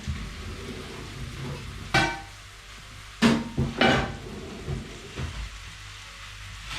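A cooking pan grabbed and set down on a stovetop while making a creamy mushroom sauce: a few close metallic clunks and scrapes, one sharp hit followed by a cluster of three, over a soft background hum, with no talking.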